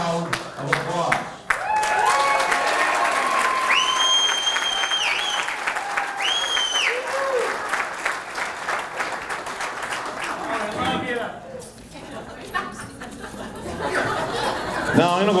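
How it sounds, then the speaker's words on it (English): Applause and chatter from attendees at a chamber of commerce business person of the year event, clapping mixed with laughter and murmuring crowd voices, with someone talking over it and the noise thinning near the end. "She needs a round of applause."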